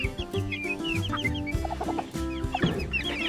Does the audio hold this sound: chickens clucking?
yes